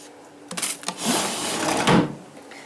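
A studio desk drawer opening or closing, a short wooden rattle and clunk followed by a broad sliding rumble, close and fairly loud with no talk.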